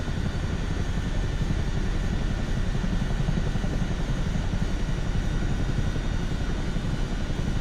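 Steady propeller aircraft drone from Microsoft Flight Simulator 2024, a plane cruising low over Chelmsford at around 114 knots, with a constant broadband engine roar that holds level throughout and no talking.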